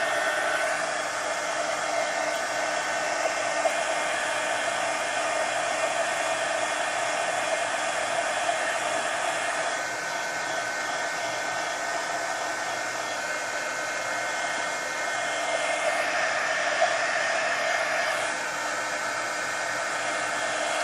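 A hair dryer blows continuously at close range, a steady, even airy roar lasting the whole stretch, drying paint on a mixed media journal page, with only slight shifts in tone as it is moved.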